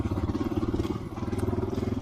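A Honda XR650L motorcycle engine thumps along while riding, a loud, rhythmic low pulsing with a brief dip midway before the steady beat resumes.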